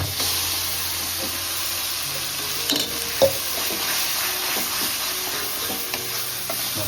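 Jamun fruit pulp cooks in a pan with a soft, steady sizzle and hiss, broken by occasional scraping knocks from a stirring spoon.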